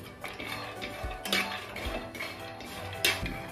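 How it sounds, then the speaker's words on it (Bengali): Peanuts fry with dried chillies and garlic in a pan, heard mainly as scattered metallic clinks and scrapes of a utensil stirring against the pan, with a few sharper knocks. "আমি এখন বাদামটাকে ভেজে নিচ্ছি"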